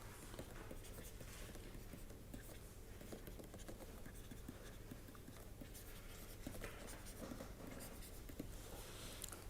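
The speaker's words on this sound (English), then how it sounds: "Let us write it a little more clearly here." Handwriting during a lecture on turbulence modeling, quiet scratchy pen strokes in short bursts over a steady background hum.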